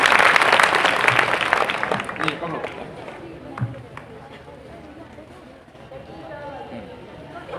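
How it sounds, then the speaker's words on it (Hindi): Audience applause at a science awareness show, loud dense clapping that swells at the start then thins into scattered claps and murmuring voices as it fades. "ओके, जोर से तालियां बजाएं सब लोग।"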